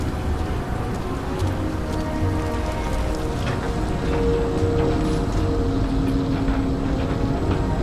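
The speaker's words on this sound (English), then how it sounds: "How is it raining?" Steady, dense rain pours down inside a building in the video game Nobody Wants to Die, a continuous even hiss of falling water heard alone throughout.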